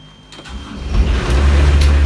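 A Garnet Emblem boat engine in neutral cranks and fires up after glow-plug heating, a low rumbling drone building over about a second and then settling into a steady, close, loud idle with no talk.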